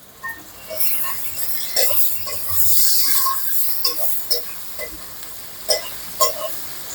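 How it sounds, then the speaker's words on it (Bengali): Prawns hit a spiced masala in a pan for a light gourd and prawn curry, giving a close, bright sizzle that swells mid-way, followed by several sharp scraping stirs and small clinks. "এবার আমি মশলাটার মধ্যে চিংড়িগুলো দিয়ে দিচ্ছি।"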